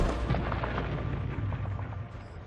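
German artillery fire at a World War II bridgehead: a dense, continuous rumble of distant booms and muffled blasts rolling one after another.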